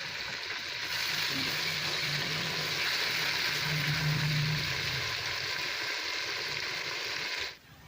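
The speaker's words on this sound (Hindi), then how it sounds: "अब इसको हम मसाले को भूनेंगे।" Salt, chili and turmeric spices sizzle steadily in oil in a pan while biryani masala is prepared, a loud continuous frying hiss that holds for several seconds and then cuts off.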